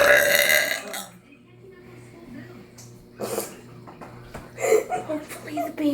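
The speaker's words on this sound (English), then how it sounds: "I can't burp like you can." Loud, throaty burps during a burping challenge: a long belch at the start, then shorter ones around the middle and near the end, close to the microphone, with brief voices and chuckles between them.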